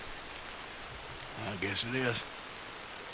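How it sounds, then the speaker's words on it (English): Rain falls steadily in the video game Red Dead Redemption 2, a soft continuous hiss that runs throughout while someone talks briefly over it midway. "And it's still raining."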